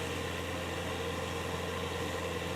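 An aircraft engine in Microsoft Flight Simulator, heard from the exterior view, drones as a steady, faint hum with a constant low rumble and no talking.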